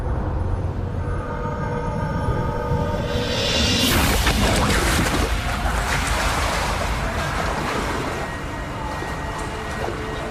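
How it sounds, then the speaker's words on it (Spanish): Three-metre waves in a wave simulator crash against a tetrapod breakwater, a loud continuous roar of churning water that surges midway and then settles into a steady rushing wash. "El simulador recrea olas de 3 metros que son bastante comunes cuando un tifón azota la bahía de Osaka."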